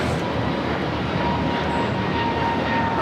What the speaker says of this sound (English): This is American Airlines 813 taking off to Philly on the A321neo